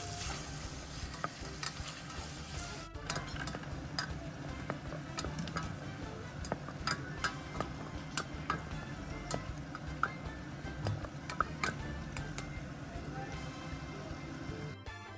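Coconut cream stir-frying in a pan with a little oil for a red curry of beef and venison: a steady close sizzle with frequent spatula clicks and scrapes against the pan throughout.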